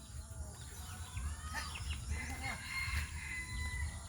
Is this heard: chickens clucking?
yes